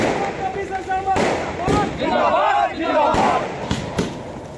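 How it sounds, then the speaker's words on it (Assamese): Firecrackers burst in sharp irregular cracks amid a cheering crowd of party workers celebrating outside a party office in Diphu, loud and near, with shouting voices throughout. "ডিফুত বাজপেয়ী ভৱনত ফটকা ফুটাই আনন্দ কৰে দলীয় নেতাকৰ্মীসকলে"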